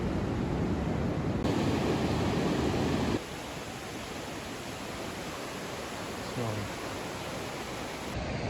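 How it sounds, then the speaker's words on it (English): Big Pacific Ocean waves breaking on the Oregon coast in a small cove, a steady broad roar of surf that is heavier at first and then settles into a softer continuous wash. "Waves are quite big."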